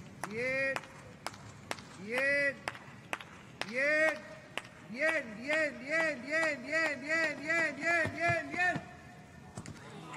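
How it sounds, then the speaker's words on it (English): A man standing in front of the long jump take-off board at a para athletics championship claps in a slow rhythm that then speeds up, while the stadium crowd joins in with rhythmic calls and claps in between. "you'll hear the clapping of the guy who stands just in front of the launch board"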